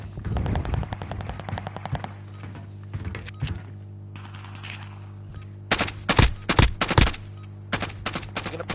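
Cooper carbine gunfire in a video game rattles in rapid automatic bursts, a long string at the start, then sharper separate volleys near the end, with a steady low drone underneath.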